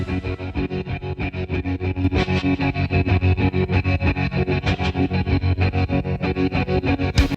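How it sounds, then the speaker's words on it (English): Distorted electric guitar chords pulse in a rapid, even tremolo throb, loud and sustained, with a few sharper accents along the way. "we get the drop out to the tremolo guitars again"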